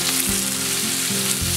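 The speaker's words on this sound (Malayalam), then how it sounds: "അതിൻ്റെ പിന്നാലെ നമ്മൾ ഈ തക്കാളി ഇടുന്നു." Chopped tomatoes go into onions frying in a pan for a Kerala egg roast curry, giving a loud, close, continuous sizzle with a few stirring bumps and no voices.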